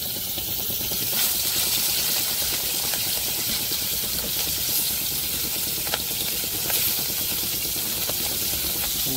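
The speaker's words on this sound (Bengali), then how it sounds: "বন্ধুরা আমাদের তেল গরম হয়ে গেছে," Fish slides into hot oil and sets off a loud, dense sizzle and hiss that holds steadily close by with no talking, in an outdoor riverside Sundarban setting.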